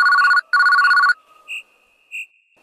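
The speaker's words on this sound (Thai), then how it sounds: "ดีนะที่เสียงโทรศัพท์โทรมาปลุก" A phone rings in a horror video game, two loud electronic trilling bursts followed by fainter, shorter chirps against otherwise quiet surroundings.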